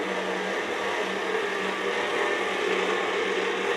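An electric mixer runs on low through a chocolate ice cream mixture, a steady, even motor whir with a low hum, close and continuous with no voices.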